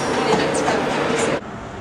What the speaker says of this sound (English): leaving York Station now is an LNER HST 43 290 on the front